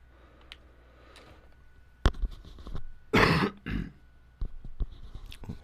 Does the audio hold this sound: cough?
yes